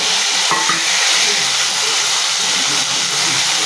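Fish frying in hot mustard oil gives a loud, steady, dense sizzle that hisses close up without a break, with a single faint clink near the start.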